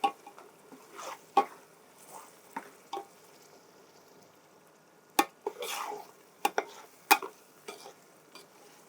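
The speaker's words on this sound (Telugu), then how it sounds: "మళ్ళీ అంతా ఒకసారి మిక్స్ చేస్తున్నాం మేడం" Onions and ginger-garlic paste being stirred in a pan, giving scattered scraping and clacking strokes with a soft sizzle beneath, close and irregular, with quiet stretches between the strokes.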